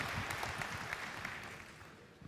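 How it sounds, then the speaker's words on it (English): Audience applause at a political party conference in Birmingham: a dense, steady wash of clapping from a large crowd that holds for a couple of seconds and fades slightly toward the end. "well, if you were going to applaud that"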